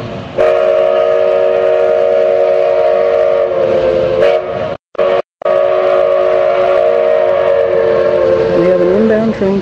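The Durango and Silverton train arrives with its whistle sounding loud and near in long sustained blasts, briefly cut off mid-way, while the train rumbles and low voices and crowd noise carry underneath.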